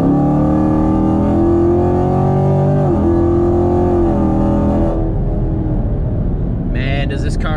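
A 2019 Camaro SS with a 10-speed transmission roars loudly at wide-open throttle, its engine note climbing and holding before cutting off abruptly near the end of the pull.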